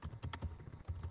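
Quick bursts of keystrokes on a computer keyboard while entering VBA code in Excel, a short close run of soft, uneven clicks with no voices.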